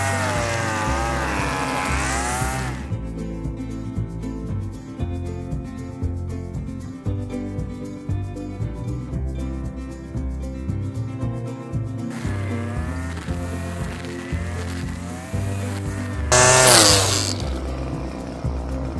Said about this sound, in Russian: мы переводим заслонку в самое верхнее положение и запускаем косу